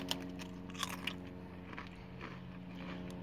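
Fried green tomato flavored Lay's potato chips crunched and chewed close up, a few sharp bites early on settling into steady soft chewing, with a low background hum and no talking.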